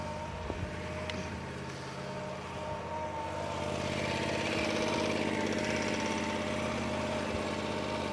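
A small engine runs steadily on an SWC 100 portable sidewall cutter, a constant droning hum with harmonic tones that grows slightly louder partway through, close and continuous with no talk.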